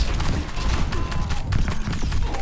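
Rapid gunfire from the shooter game Overwatch crackles in quick, close bursts of sharp shots, with busy game noise underneath.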